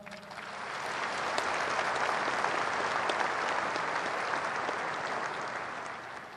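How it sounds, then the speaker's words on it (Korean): A large audience applauds at the 2013 opening ceremony of the Chungnam provincial government's new Naepo office building. The clapping is dense and sustained, swelling slightly and then fading toward the end. "신대평 이완구 전임 도지사님께 모든 영광과 격려의 박수를 보내주시기 바랍니다"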